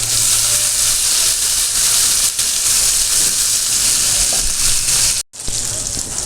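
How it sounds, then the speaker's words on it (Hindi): Garlic paste roasting in hot oil with whole cumin seeds, a loud continuous sizzle and hiss that holds steady, dips briefly near the end, then resumes. "थोड़ा सा मैंने इसको रोस्ट कर लिया है लहसुन के पेस्ट को"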